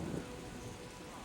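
Brief burst of rain from the TimeSplitters 2 video game, a dense even patter of drops with a low rumble at the start, steady and close with no voices.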